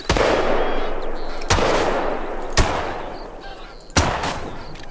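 Rifle shots from theHunter: Call of the Wild, four loud, sharp reports spaced about a second or more apart, each with a booming tail rolling out across open terrain.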